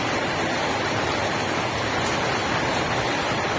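Heavy rain falls steadily on a village roof that leaks into a chicken shed, a dense, constant hiss of rainfall with no distinct individual drips and no voices.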